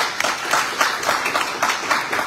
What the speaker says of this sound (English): the IGP deserves a round of applause